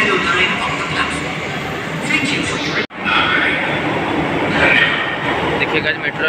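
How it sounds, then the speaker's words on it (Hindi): A metro train arriving at the Sector 51 station rumbles and clatters loudly nearby, with a brief sudden dropout partway through, then the heavy rolling noise resumes. "अब मेट्रो आ चुकी है"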